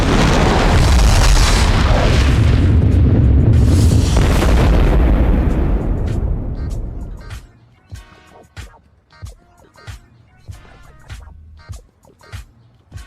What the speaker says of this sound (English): lifeboat explosion in the game